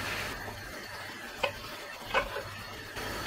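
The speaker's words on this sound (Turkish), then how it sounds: "şu şekilde karıştırarak etlerin her tarafını mühürlüyoruz" Beef searing in a pot with a few brief scraping stirs, steady frying hiss throughout, close by.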